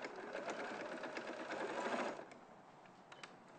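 A domestic sewing machine stitches a seam in fabric, a steady close whirring motor with rapid needle clatter that slows and softens toward the end.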